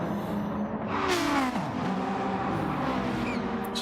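RC racing cars drive around a track at a night race event, motors whining and revving with pitch sweeps as they pass close by, loud and continuous.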